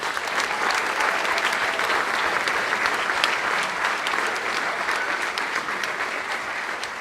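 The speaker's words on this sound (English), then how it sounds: "Let's give them one more round of applause." Audience applause for kindergarten musical performers at a school evening show, a full, steady round of many hands clapping throughout, even in loudness and uninterrupted by talk.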